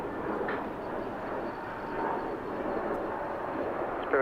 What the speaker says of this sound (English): There it is, the 777 Korean